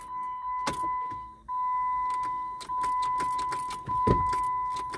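A Jeep Wrangler JK with a shift fault gets a failed start attempt from the driver's seat, with a steady electronic chime running throughout and repeated whirring cranks and clicks close by and fairly loud, without voices.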